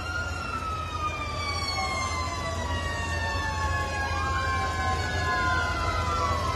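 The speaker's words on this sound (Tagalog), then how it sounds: "Nakapaikot na po yung mga truck ng bumbero" Several fire truck sirens wail at once at a residential fire in Sampaloc, Manila, with overlapping rising and falling tones that continue steadily over a low rumble of engines and street noise.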